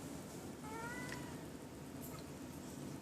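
Cats on a patio give a quiet meow, a short rising wail heard faintly against a soft background hiss, with no talking.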